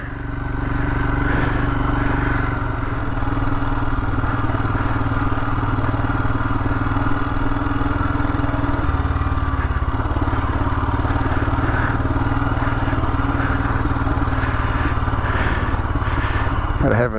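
A Royal Enfield Himalayan motorcycle engine runs steadily while riding through falling snow, a close, continuous throbbing drone that holds through the whole stretch with small throttle shifts along the way.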